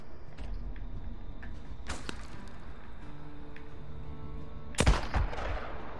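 Sniper rifle shots ring out in the Days Gone video game, a sharp crack near two seconds and a louder, heavier blast near five seconds, with faint scattered clicks between them over a low hum.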